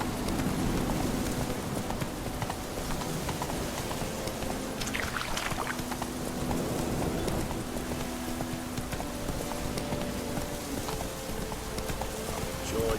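Horse galloping in The Witcher 3, a steady rapid clip-clop of hooves over a constant rumbling game soundscape, with a brief swoosh midway.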